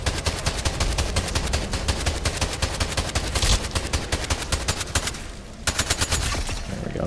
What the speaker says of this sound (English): Let's shoot at that with this SMG.